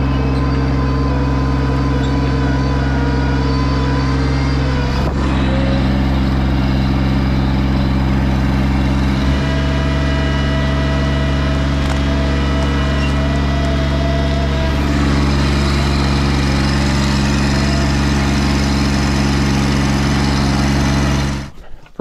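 A small Massey Ferguson tractor idles nearby at a mountain cabin build site, a loud, steady engine drone with a strong low hum that runs unbroken and then cuts off abruptly at the end.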